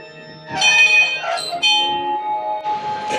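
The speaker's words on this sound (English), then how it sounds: "I rang the bell." An old church bell, once moved to Manhattan and reassembled, rung by hand with several ringing strikes that bloom and decay in overlapping metallic tones, loud and close.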